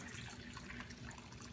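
Liquid draining off smoked tinapa fish makes a continuous soft trickling wash, faint and steady, with no voices.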